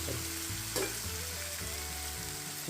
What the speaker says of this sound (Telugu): ఇప్పుడు వాటర్ వేస్తాను.